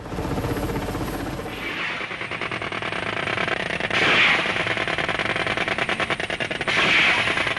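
Bell UH-1 Huey helicopter in a Vietnam War film scene, its rotor thudding in a fast, steady chop while bursts of gunfire crackle over it at intervals.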